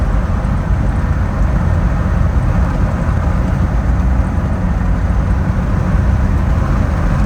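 A 2004 Jeep Wrangler TJ drives along with a loud, steady roar of engine and road noise filling the cabin; no distinct gear changes stand out.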